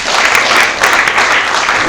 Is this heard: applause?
yes